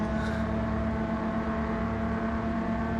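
A virtual race car's engine drones steadily in a VR racing game, a constant loud whirring hum with no clear revving peaks and no talk over it.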